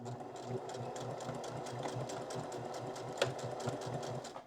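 A sewing machine stitches a dog bandana made from old shirts, its needle tapping in a fast, regular rhythm up close, with a slight change in pace midway and a sharp click near the end.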